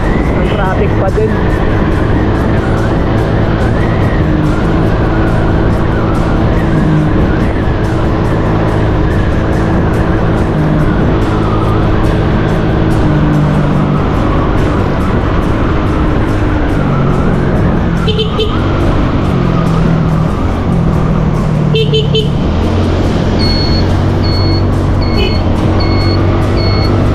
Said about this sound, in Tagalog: Kahit tanghali na, ang traffic pa din.